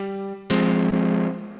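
A keyboard's distortion effect makes an electric-guitar-like tone: a clean sustained note gives way to a loud, buzzy, gritty chord that holds for about a second and then fades.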